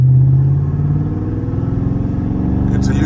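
A Dodge Scat Pack muscle car's engine accelerating nearby, a deep loud steady rumble building under throttle with a pulsing throaty drone throughout.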